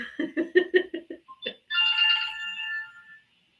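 A phone ringtone plays a quick, fairly faint melodic run of short tones, then one longer sustained chime that fades out, with no talk.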